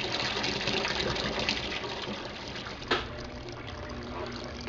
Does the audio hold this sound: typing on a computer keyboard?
no